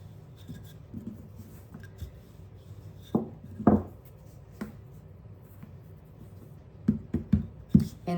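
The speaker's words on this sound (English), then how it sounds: "Now we're going to roll this out in a disc." Scallion pancake dough being rolled out into a thin disc: soft, faint rubbing and rolling strokes with a few light knocks against the work surface, and no voices.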